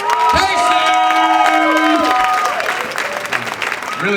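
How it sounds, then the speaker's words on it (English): Audience applause and cheering at a comedy fundraiser show, a dense crowd clapping with shouts and whoops, while a voice calls out over it. "Give him a big round of applause."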